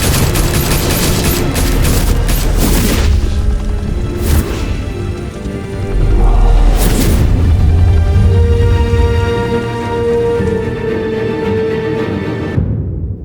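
Sustained gunfire bursts and booms from a Batman Telltale Series game scene, loud and continuous for about twelve seconds, with a brief heavy impact midway before cutting off abruptly.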